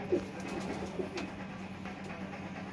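A pair of pigeons, male and female, kept by a hobbyist, coo softly a couple of times close by, low murmuring calls over a steady background hum with no talk.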